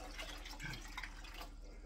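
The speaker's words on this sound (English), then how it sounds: "I'm gonna put the rest of my tea water in here." Tea water being poured into a 2-cup measuring cup, a soft, continuous trickling stream, faint and close.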